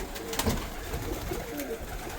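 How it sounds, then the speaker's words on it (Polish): A pigeon coos softly a few times against a steady background hum, low murmuring calls close by. "Jest ten gołąb, bo muszę go złapać."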